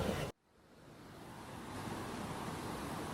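Water rushes hard through Bustos Dam after a typhoon, a broad roaring wash of surf-like noise that swells in after a brief cut and holds steady and loud, with no talk.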